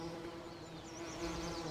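Bees buzz steadily in the Farming Simulator 19 game, a soft continuous insect drone with a faint hum underneath, heard alone.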